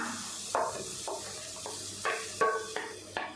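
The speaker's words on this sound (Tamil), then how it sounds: "பாசி பருப்பு சேர்த்துட்டு நல்லா கைவிடாமல் கிளறி கொடுத்துக்கிட்டே இருக்கலாம்" Ground moong dal paste stirred in ghee with wheat flour for Ashoka halwa, heard as a few distinct scraping stirs against the pan with a soft frying hiss between them, close and fairly quiet.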